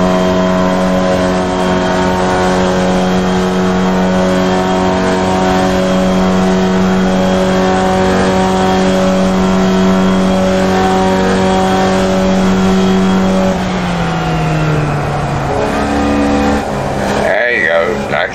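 A Formula Vee race car engine in iRacing at Lime Rock, held at about three-quarter throttle, a loud steady droning buzz that drops in pitch near the end with a brief rough burst.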